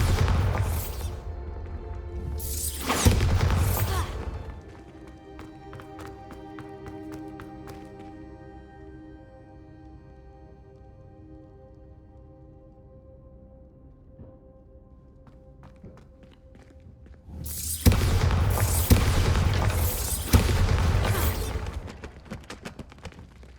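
Bombarda and Confringo spells blast in the video game Hogwarts Legacy: heavy booming bursts open the stretch, a long quieter ringing tail follows, then another cluster of loud blasts near the end.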